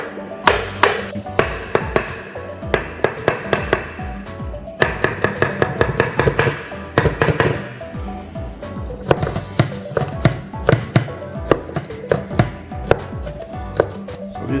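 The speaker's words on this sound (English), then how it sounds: "So we're just cutting up some onions now" A knife chops onions on a chopping board while cooking spaghetti with mussels in red sauce, giving fast, close, uneven tapping bursts with short pauses between runs.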